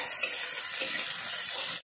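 Chopped onion frying in hot oil with bay leaf and whole cumin, a steady close hiss and crackle with light stirring, no talk, cutting off abruptly at the end.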